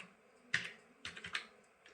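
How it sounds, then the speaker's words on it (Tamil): Fingers type a captcha code on a computer keyboard in a few quiet, close clicks and taps with short gaps between them, and no voice is heard. "அந்த கேப்ச்சா கோடையும் கரெக்டாக டைப் பண்ணிக்கணும்"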